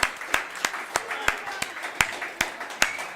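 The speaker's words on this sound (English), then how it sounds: "A round of applause," A round of applause from an awards-show audience at a game-of-the-year ceremony, heard as a steady wash of hand claps with sharp individual claps standing out at regular beats over about three seconds.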